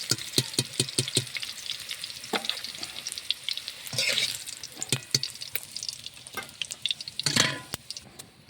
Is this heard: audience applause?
no